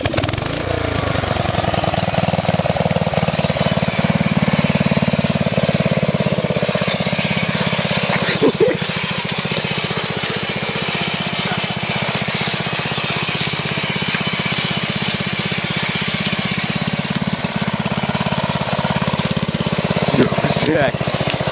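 A riding lawn mower's engine roars loud and steady as the mower is driven hard off-road, with the drone continuing without a break and occasional knocks and jolts over rough ground.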